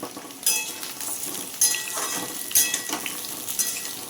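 Potatoes for aloo dum being stirred and fried, about 500 grams in a pan, with a steady sizzle and repeated sharp spatula clinks against the metal every second or so.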